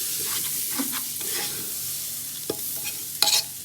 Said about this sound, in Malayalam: ഇത് നന്നായിട്ട് ഇളക്കണം ഈ ഒരു കളറിലായിരിക്കും